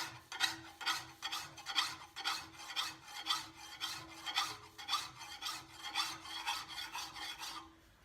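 A hand file rasps along the beveled edge of a steel brush hook in a workshop, making about sixteen steady back-and-forth strokes in an even, close rhythm.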